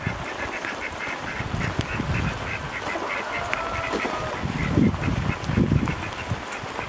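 Ducks quack repeatedly in a busy chorus, some calls close and loud, others further off, over a steady patter of rain.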